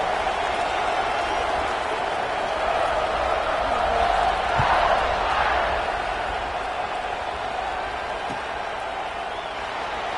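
Football stadium crowd waiting before a kickoff, a broad, steady murmur of many voices filling a large open space, with a couple of faint thumps and a slight swell of noise midway.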